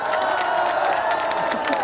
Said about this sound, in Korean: 한동훈 총괄선대위원장님을 큰 박수로 맞아주시기 바랍니다.